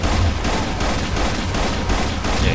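A shotgun fires in the video game Capsized, a loud, continuous, crackling barrage that fills the whole moment with heavy booming blasts and no pauses.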